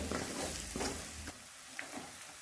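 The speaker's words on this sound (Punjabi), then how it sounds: "ਹੁਣ ਆਪਾਂ ਇਹਨੂੰ ਹਿਲਾ ਦਵਾਂਗੇ" Meat being stirred in a hot pan with a spoonful of meat masala, a scraping, sizzling sound with a few distinct strokes, close and fairly steady, without talk.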